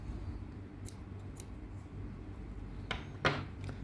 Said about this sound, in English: I'll cut the green yarn